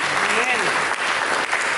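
Church congregation claps during a sermon, short burst of full applause with voices and a shout mingled in.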